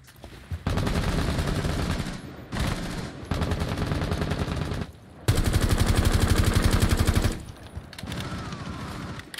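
Rapid automatic gunfire in a Rainbow Six Siege match, loud sustained bursts of machine-gun fire separated by short pauses, dense and close.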